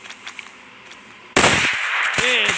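A sniper rifle shot in a Minecraft zombie mod game: one sudden, loud blast lands over a faint background, then a dense, sustained roar carries on to the end, with no talking.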